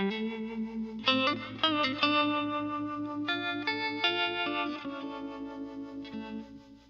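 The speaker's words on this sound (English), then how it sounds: "Yeah, it's harmonic tremolo." An electric guitar runs through a Fender harmonic tremolo pedal, sustained chords and single notes pulsing with a steady wavering throb, played alone and close with no talk.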